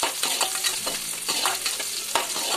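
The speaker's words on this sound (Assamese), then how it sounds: "পিঁয়াজখিনি ৰঙচুৱা হোৱালৈকে মই ভাজি লৈছোঁ" Onions sizzling and frying in a home kitchen pan until reddish-brown, a steady close crackle broken by a few scraping stirs, with no voices over it.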